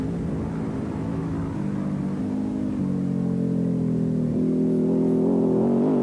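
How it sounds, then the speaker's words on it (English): Rally motorcycles race through a desert during the 1993 Pharaohs Rally Raid. A steady, loud engine drone holds throughout, with its pitch stepping up in several shifts as the bikes accelerate past, and no voices. "these bikes come racing through an area where there's a lot of gazelles"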